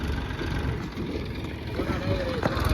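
A small tractor engine runs at a salt farm, a steady low rumble throughout, roughened by wind buffeting the microphone.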